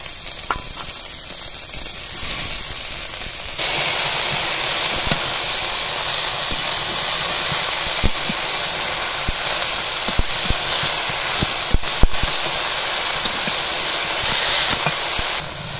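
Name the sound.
water spinach (kolmi shak) frying with onion in pan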